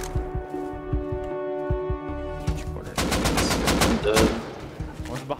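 Rapid bursts of AK rifle fire in the video game Rust ring out loud and close, layered over steady background game sounds with occasional voices.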